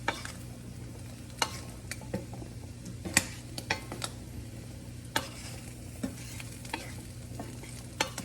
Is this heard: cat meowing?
no